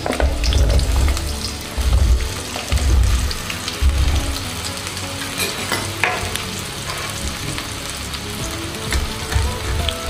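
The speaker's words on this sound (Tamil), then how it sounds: "எண்ணெய் சூடானவுடனே நம்ம அறுத்து வச்சோம் இல்லையா பாவக்காய்," Sliced bitter gourd fries in hot sesame oil with a loud, continuous sizzle and crackle. Bursts of stirring and pan scraping come and go, heard close with no voices.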